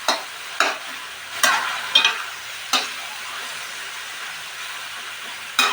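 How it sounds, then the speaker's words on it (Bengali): Onions fry in a pan for a home-style shrimp bhuna, a steady soft sizzle broken by about six sharp spatula scrapes and stirs, close and clear with no talking. "একটু পেঁয়াজের গন্ধটা যাওয়া পর্যন্ত একটু ভেজে নেব।"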